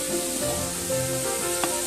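Onion-spice masala for a Bengali chitol fish kalia sizzles in a pan as turmeric and salt are stirred through, steady close frying hiss with a soft scrape of the spoon, no talk.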